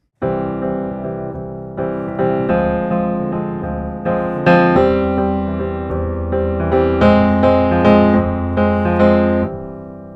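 Piano chords played in a syncopated, repeating pop clave rhythm, steady and full, with bass notes underneath and no voices.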